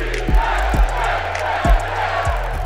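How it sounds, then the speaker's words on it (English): Stadium crowd noise from the Madden NFL 25 football video game, sourced from NFL Films: a dense, roaring crowd bed with rhythmic chanting and low rumbling thuds recurring roughly every half second, steady and loud throughout. "improved crowd audio is sourced from NFL Films for chants and reactions"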